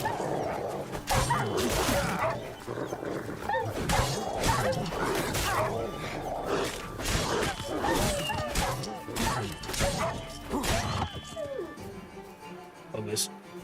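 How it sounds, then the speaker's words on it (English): Wild dogs barking, yelping and growling during combat in The Witcher 3: Wild Hunt, rapid repeated barks mixed with whooshing strikes and crashes, while someone talks over the fight. "Wild dogs, anyway."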